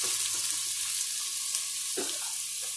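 Onion fries quietly in a pan as a soft, continuous sizzle, with a few light utensil scrapes near the end and no voices.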